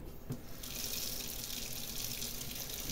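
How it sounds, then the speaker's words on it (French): Tap water runs steadily into a sink to rinse makeup brushes, a continuous faint splashing hiss over three seconds with no talking. "on va mettre un petit peu d'eau"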